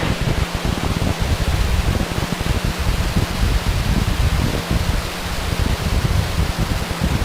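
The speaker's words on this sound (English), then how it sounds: "Ignition. Liftoff." Falcon 9 rocket engines roaring at liftoff, a dense, continuous broadband rumble with a crackling texture, loud and unbroken throughout.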